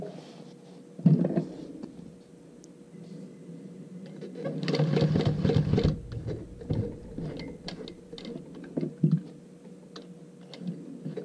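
A sewing machine turned slowly by its hand crank while sewing a zipper and lining, giving soft uneven mechanical clicks and whirring in short bursts, close and moderately quiet, with a busier stretch in the middle.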